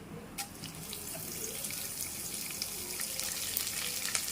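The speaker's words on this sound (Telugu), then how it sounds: "ఇలా కరివేపాకు చిటిపట్లాడుతున్నప్పుడు" Curry leaves splutter in hot oil with urad dal, cumin and mustard seeds for a ridge gourd fry, a faint continuous hiss dotted with small crackling pops.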